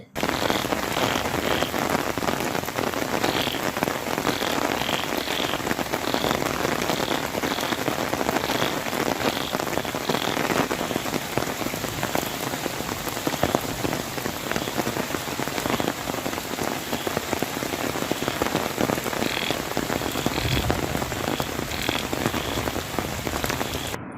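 Heavy rain pours steadily onto a road in a dense, loud, unbroken roar for the full stretch, with faint sounds in the background.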